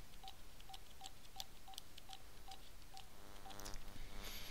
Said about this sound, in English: I'm going to take another phone and place a call to that desk phone.